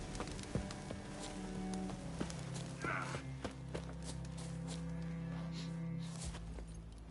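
Hooves of Geralt's horse Roach in The Witcher 3, a light clip-clop of galloping footfalls running steadily under a low ambient game hum and music, with a faint voice briefly heard.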